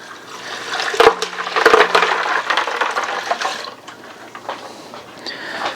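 Ice water for turkey brine pours and splashes into a container, with a couple of clinking ice knocks at the start and a steady gurgling fill that gradually settles.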